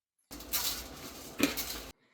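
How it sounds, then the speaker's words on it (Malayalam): Rice is poured into a pot of boiling water while beef neychoru is being made. The pour makes a short, faint rattle and clink against the pot, lasting about a second and a half and rising briefly near the end. "ഇതിലെ റൈസ് ഇടുന്നു."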